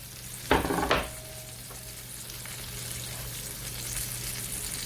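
Steak with butter and garlic fries on a griddle, a steady close sizzle throughout, with a couple of sharp clatters of a utensil near the start.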